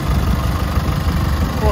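A 2016 Holden Colorado LS engine idling nearby, a steady low rumble and hum with no ticks or irregular noises, continuous and even throughout.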